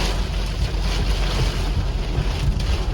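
Strong wind during a supercell storm chase in Pennsylvania and New York roars in a dense, continuous rush, buffeting the microphone with low rumbling gusts throughout.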